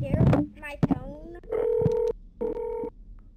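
A telephone dialing out: two sustained electronic dial tones cut on and off after a brief burst of voice at the start, fairly loud and close.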